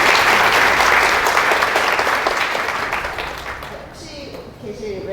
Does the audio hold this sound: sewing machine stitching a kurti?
no